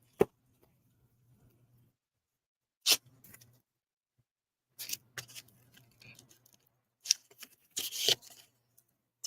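Scissors cutting material for a homecoming mum make a few crisp snips in separate short bursts, with quiet pauses between them over a faint low hum.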